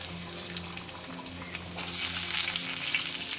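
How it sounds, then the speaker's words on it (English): Scallions and garlic fry in chicken fat for ramen, a steady close sizzle that swells sharply louder partway through as more hits the hot fat, with a low kitchen hum beneath. "We'll fry some scallions, some garlic, and then we'll add that with our tare and the tonkotsu broth."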